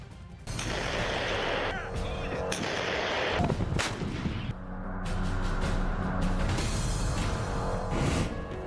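Howitzer artillery cannons fire in the Russia-Ukraine war, sending out repeated loud booming blasts and crashes that carry over continuous low rumble, with a voice speaking underneath.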